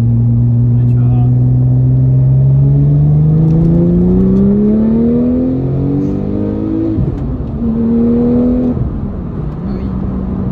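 A Porsche 996 Turbo engine revs and accelerates from inside the car, its droning tone climbing steadily through the gears with brief drops at shifts, loud and continuous, while occupants talk over it.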